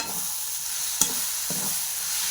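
Cabbage and spices sauté in a pan with a soft continuous sizzle, broken by a few sharp scrapes and clacks of a spoon against the pan while the mixture is stirred. No voices.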